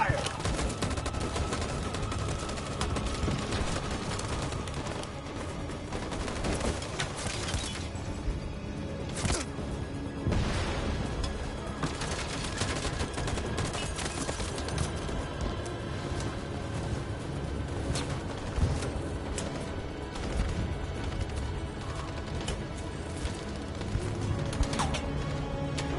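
Sustained volley of gunfire after a command to shoot in the video game Detroit: Become Human, dense overlapping shots and crackling impacts over a long stretch with occasional louder bursts.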